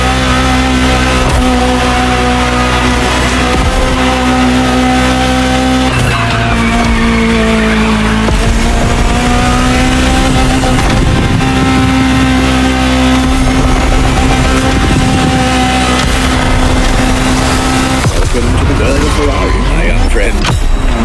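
A loud high-revving Ferrari supercar engine roars and shifts gears in the video game The Crew Motorfest, its pitch climbing and dropping, with tire squeal and racing noise throughout.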